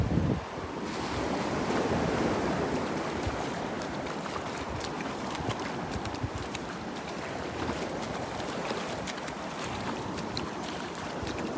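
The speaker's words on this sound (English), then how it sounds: "Nice little breeze coming from the northeast." Steady wind on a beach at Vanderbilt Beach, with a northeast breeze buffeting the microphone over continuous surf washing ashore; a broad, constant roar with no voices.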